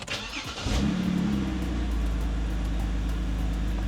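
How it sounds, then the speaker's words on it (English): BMW E9x car engine cranks and catches, then settles into a steady low idle rumble, close and constant. "starts up pretty good, idling is good."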